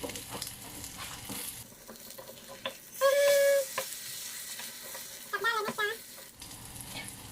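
An onion omelette frying in oil gives a close, crackling sizzle as it is flipped in the pan, with the frying swelling loudly around the flip and short voice sounds in between.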